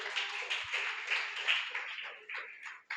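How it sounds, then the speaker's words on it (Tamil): Audience in a church fellowship anniversary gathering clapping together in a steady, rhythmic pattern of repeated hand claps, moderately loud and fairly close, continuing evenly for a few seconds. "கைத்தட்டு கைத்தட்டு கைத்தட்டு."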